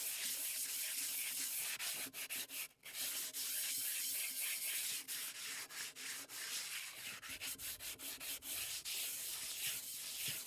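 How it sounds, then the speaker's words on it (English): Coarse 60 grit sandpaper scrubs steadily across a cast iron skillet being restored, a continuous close, loud rasping broken by a brief pause and quicker strokes toward the end. "Now I'm going to try this number 60 grit sandpaper."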